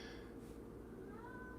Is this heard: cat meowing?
yes